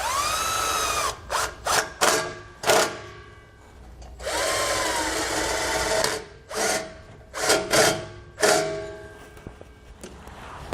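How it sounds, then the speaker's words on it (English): An 8mm socket on a power tool tightens the strap bolts of Air Lift LoadLifter 5000 air helper springs on a vehicle. Two long whirring runs alternate with several short bursts, loud and close, with no talking. "we're going to come back and tighten down our straps. We can do that with an 8mm socket."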